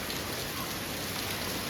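Steady rain falls without pause during a village festival night, a dense, even hiss that fills the whole short stretch with no voices over it.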